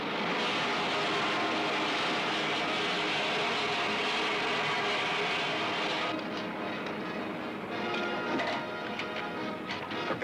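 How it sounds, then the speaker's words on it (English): An aircraft is flying before it lands. A loud, steady broadband engine roar fills the first six seconds, then the top drops away into a duller, rougher rumble with crackling texture. "Veer to the right, Ted. Land beyond that next range of hills"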